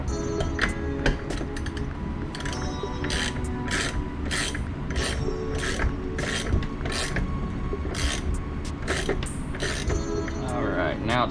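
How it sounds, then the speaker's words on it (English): A new nut is threaded onto the pinion of a Ford 8-inch rear axle. A steady mechanical grind runs underneath close, repeated ratcheting clicks and creaks in an irregular rhythm. "we want to get the new nut. Start threading it on there."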